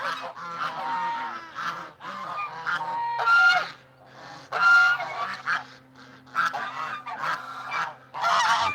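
Several geese honk loudly and repeatedly nearby in the early morning, overlapping calls in irregular bursts with brief lulls between them.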